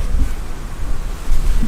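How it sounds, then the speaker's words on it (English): Strong wind buffets the microphone at an outdoor cricket ground, a steady low rumbling roar with gusty swells and no other clear sounds. "It's very windy"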